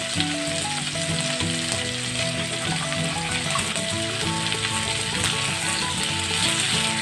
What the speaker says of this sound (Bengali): একই সাথে এর মধ্যে আমি মটরশুঁটিগুলো দিয়ে দেবো যাতে একটু ভাজা ভাজা হয়ে যায়